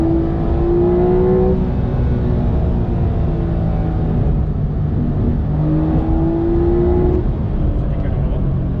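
A Porsche 911 Carrera 4 of the 992 generation accelerates hard, the engine tone rising through gears in two strong pulls, heard from inside the cabin as a loud steady roar.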